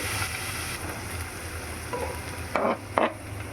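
Chopped ingredients for a wheat-flour onion dosa, including chilies, fry in a pan with a continuous near sizzle and a few louder stirring scrapes toward the end. No one speaks.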